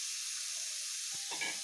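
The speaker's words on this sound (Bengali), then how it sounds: "মূলো, আলু ও স্কোয়াশগুলোকে একসঙ্গে ভেজে নিচ্ছি।" Radish, potato and squash frying together in a pan, a steady soft sizzle with a couple of brief stirring scrapes near the end.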